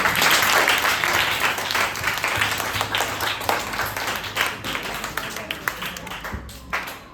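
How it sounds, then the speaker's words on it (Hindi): Schoolchildren in a classroom give a round of applause for their teacher, loud at first and gradually thinning into scattered claps, with music or voices faintly underneath. "मैम के लिए एक बार ताली बजाएं"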